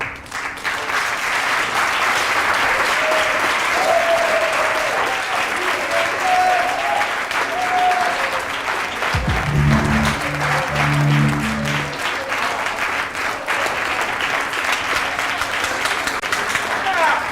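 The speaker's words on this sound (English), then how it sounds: "Enough with the applause." Studio audience applause at a lounge-style talk show, loud sustained clapping and crowd noise filling the whole stretch, with a brief low musical sting sounding partway through.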